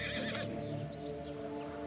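A horse neighs loudly and close by, one drawn-out whinny with a wavering tone, over steady background noise and a faint hint of hooves.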